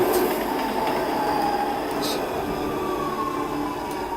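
In the video game Resident Evil 6, a train rumbles steadily past underground, with a continuous rolling roar, faint wheel squeals and a few metallic clicks, loud and close throughout.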